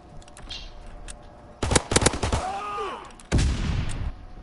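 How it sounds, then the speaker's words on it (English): Rapid bursts of gunfire from a gun in a WWII first-person video game crack out in clustered volleys, loud and close, with a pause between two main bursts and a brief voice-like tone. "I just picked up Travis's gun and it shoots so slow"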